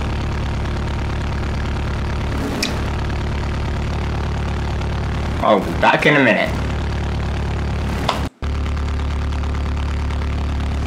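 Car engine idling in BeamNG.drive, a steady low mechanical drone running throughout, with a voice talking briefly over it near the middle.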